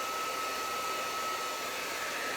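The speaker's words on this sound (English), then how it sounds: "If you have a cool button on your hair dryer, you can alternate between that as well." A hair dryer blows in a steady, unbroken whir held close, a constant airy drone with a faint high whine running throughout.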